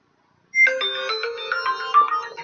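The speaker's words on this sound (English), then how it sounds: "Now my phone's ringing." A mobile phone rings after a moment of silence, playing a bright electronic melody of quick repeating tones that carries on steadily for about two seconds, loud and close with no talk over it.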